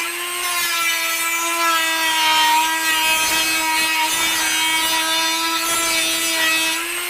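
A power tool trims and grinds the edge of a wooden ammo box in a DIY workshop, giving a loud, continuous, steady whine with a rasping wood-grinding texture and no pauses or talk.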